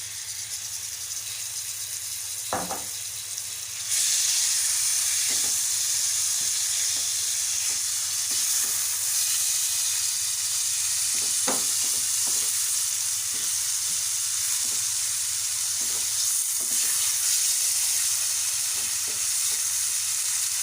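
Marinated chicken dropped into hot oil sizzles and fries steadily for the whole stretch, the loud hiss jumping up a few seconds in, with occasional clinks of a spoon stirring in the pan.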